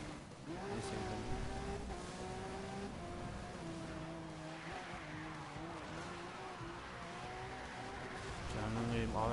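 A Lamborghini Aventador roars steadily through a Need for Speed Rivals race, its engine note rising and falling in continuous revs, with a swell near the end and a voice over it.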